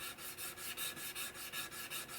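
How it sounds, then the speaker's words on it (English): Rhythmic back-and-forth sanding strokes on the hard end grain of a wooden rifle stock, about ten even rasping passes, close and steady with no talking. "It's hard to sand end grain"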